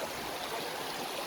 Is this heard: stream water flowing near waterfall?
yes